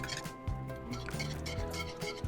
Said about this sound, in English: melt in with our glaze, and just slowly whisk it in, just like this